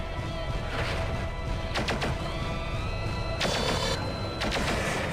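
Missiles fire in MechWarrior 4: Vengeance in a steady loud din. Sharp whooshing launches and crashing impacts stack up in quick bursts over continuous engine and battle noise.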